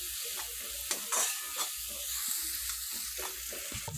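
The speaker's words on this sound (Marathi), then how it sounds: "गरम मसाला टाकून घ्या थोडासा आणि व्यवस्थित चांगला परतून घ्या." Vegetables with garam masala stir-fried in a pan, a steady soft sizzle under repeated scraping stirs of a spoon against the pan, close and alone.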